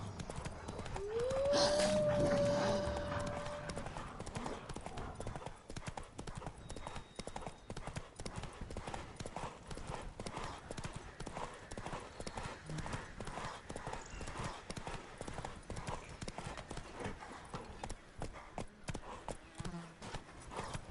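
Roach the horse gallops in The Witcher 3, hooves pounding in a fast steady rhythm throughout, with a brief whinny early on and a voice over it at the start.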